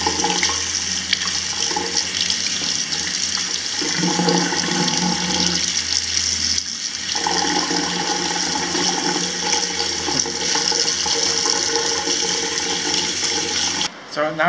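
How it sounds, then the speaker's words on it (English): Tap water splashes steadily over the wound of an aloe vera plant as it is rinsed clean, a close, continuous running flow that stops abruptly near the end. "I think I'll try just to wash away the old stuff here"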